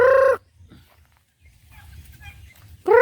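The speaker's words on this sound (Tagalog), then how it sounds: "Dami na mga manok, mga kalaag, oh." Chickens on a rural farm in Cebu give loud, close clucking calls at the start and end, with quieter scratching and faint bird sounds between them.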